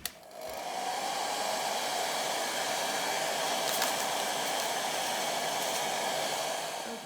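A hair dryer blows steadily and fairly close for several seconds, drying ink on a craft journal page, with a brief click at the start and no talking.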